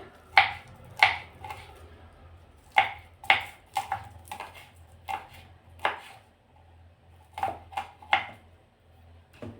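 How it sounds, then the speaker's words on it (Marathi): Garlic cloves and green chillies are chopped with a knife on a board in a kitchen: a dozen or so sharp, distinct knocks in an uneven rhythm, close and clear over quiet background. "काही लसूण पाकळ्यासुद्धा तुकडे करून घेते असे"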